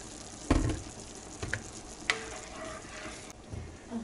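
Heavy whipping cream hits a sizzling pan in a parmesan garlic mushroom chicken dish, with a soft steady sizzle and a few sharp splashes and stirring clinks spaced across a few seconds.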